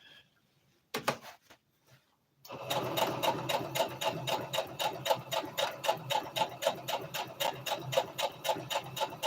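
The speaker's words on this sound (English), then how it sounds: "Let me backstitch." A sewing machine backstitches fabric for a twist turban hat: after a couple of short bursts, it runs steadily in a quick, close mechanical rhythm of regular clattering stitches.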